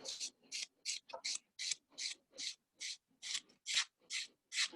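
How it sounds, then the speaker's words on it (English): A nail buffer works the free edge of a fingernail in about a dozen short, evenly spaced swishing strokes, soft and close, each a brief bright rasp separated by silence. "Let's tidy up that free edge. Just come in with the effect buffer."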